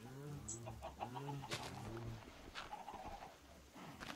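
Minecraft chickens cluck softly in repeated short bursts, joined by cooing, quiet and close against a faint background hum.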